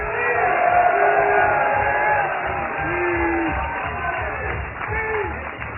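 A large outdoor crowd at the 2014 Bassmaster Elite bass fishing tournament weigh-in on the Delaware River claps, whoops and cheers in a sustained roar, with voices shouting throughout.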